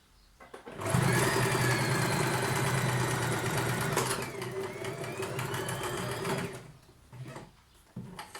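Sewing machine stitching a trouser pocket at the waistband, a close whirring run of about six seconds with a brief dip partway, then stopping, followed by a few soft handling knocks.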